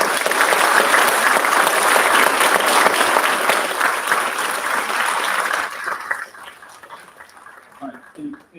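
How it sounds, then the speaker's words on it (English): Board meeting audience gives a hearty round of applause that holds strong for several seconds, then thins out, with scattered voices as it fades. "We can give these guys a round of applause too"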